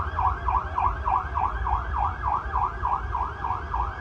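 An air raid siren sounds during a drill near a railway station, wailing in a steady rapid rise-and-fall cycle, loud and continuous over a low rumbling background.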